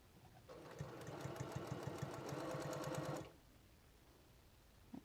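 A sewing machine top stitches a shirt sleeve tab, its rapid steady needle clatter running close and alone for about three seconds before stopping.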